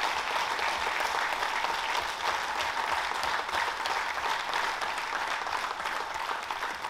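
Audience in a packed town square gives sustained, dense applause as a tribute to a traditional folk singer, a steady wash of clapping from many hands that continues evenly throughout.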